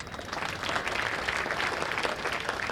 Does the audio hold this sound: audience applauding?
yes